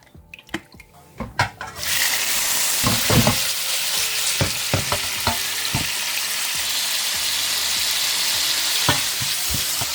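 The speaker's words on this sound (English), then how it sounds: "So we're gonna be frying the shrimps and the liver first." Shrimp and liver fry in a pan for fried rice, a steady loud sizzle filling the clip after a few clattering stirs and utensil knocks, with more scattered scraping taps through the frying.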